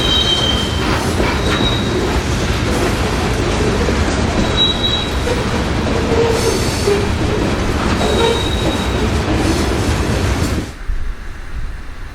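A road freight train hauling rock loads rolls past close by, wheels grinding and squealing with clickety-clack over the rails, steady and loud before the noise drops off abruptly at the end.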